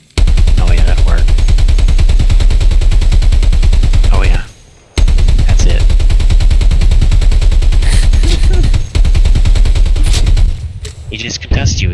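Loud, sustained automatic gunfire in a video game, an enemy firing at the player in rapid unbroken bursts, briefly cutting out midway before resuming, with a voice talking over it.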